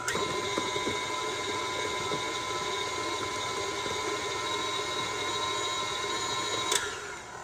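Electric hand mixer whirring steadily through a lime trifle filling of cream cheese, lime zest and whipped cream, a loud continuous motor drone with a brief clatter near the end.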